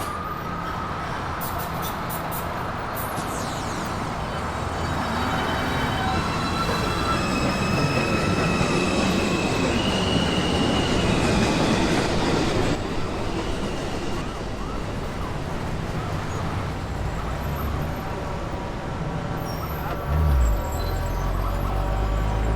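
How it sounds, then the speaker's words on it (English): A New York City subway 2 train at 207 Street Station rumbles loudly and continuously along the track. High metallic squeals come early, and the roar eases toward a low thump near the end. "This is a Manhattan-bound 2 train."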